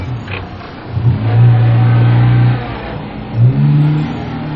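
A car engine revs hard as a tyre sinks into soft beach sand: a steady droning whine holds for about two seconds, drops away, then surges again, loud and close.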